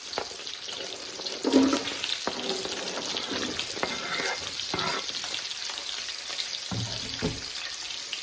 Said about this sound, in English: we're just gonna saute this a bit, let it soften up